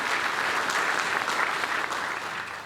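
A crowd applauding the staff at a State of the City 2020 event in Weslaco, a sustained, even wash of clapping from a large audience, loud and continuous throughout.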